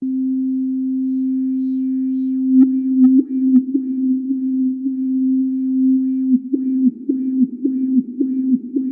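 A steady pure synthesizer tone that starts plain, then picks up short rhythmic wobbles and blips in its pitch and brightness from an LFO on the filter cutoff.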